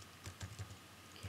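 Keys clatter on a computer keyboard in a brief, faint burst of a few quick keystrokes.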